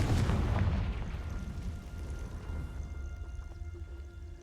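A Confringo fire spell blasts in Hogwarts Legacy, a loud booming burst up front that decays into a rumbling tail, with faint magical ringing lingering afterward.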